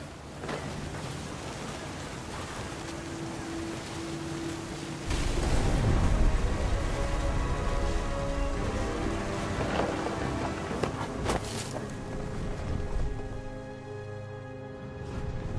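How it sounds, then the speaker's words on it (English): Rain pours steadily during a thunderstorm in the video game What Remains of Edith Finch, with a heavy rumbling surge of thunder midway under gentle background music, no talking. "The thunder sounded much too close and full of angry power."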